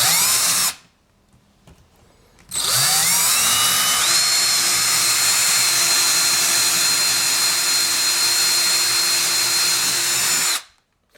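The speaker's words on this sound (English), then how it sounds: "let's get another hole drilled here for this hole saw to go" A power drill fitted with a hole saw bores through a wooden countertop during a mobile home sink install. A short burst of drilling, then a pause, then a long, loud, continuous whine that ends abruptly.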